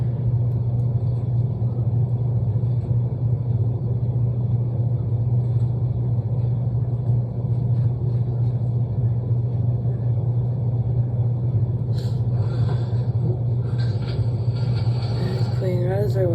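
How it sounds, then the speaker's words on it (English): Busy transmission repair shop ambience: a steady compressor drones low and constant throughout, with auto work noises underneath and a burst of clattering activity near the end. "busy transmission shop ambience"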